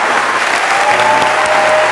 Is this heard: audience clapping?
yes